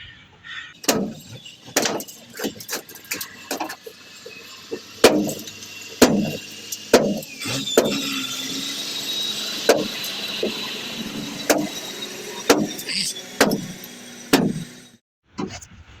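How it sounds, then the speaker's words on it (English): Wooden deck boards on a flatbed trailer being pried up and stripped with two bars, giving repeated sharp cracks, knocks and creaks of splitting wood at an irregular rhythm, fairly close and with no voices. "It's Cole stripping the deck on the trailer. He's double barring it."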